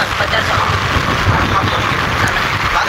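Heavy rain comes down as a dense, loud, unbroken hiss and rumble, steady throughout with no pauses.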